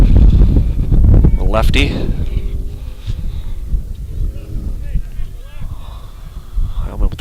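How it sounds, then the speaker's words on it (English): Gusty wind buffets the microphone at an outdoor high school baseball game, heavy low rumbling strongest early and then easing, with a commentator talking over it. "Ooh, windy."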